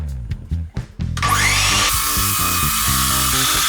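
A power tool cuts through rustic waney-edge timber for coffee table legs, starting with a few short bursts and then settling into a loud, sustained whine that runs steadily to the end.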